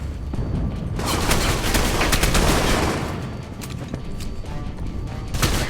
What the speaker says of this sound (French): Vous croyez que je gagne des points de bonus de combo si je tire sur les cibles?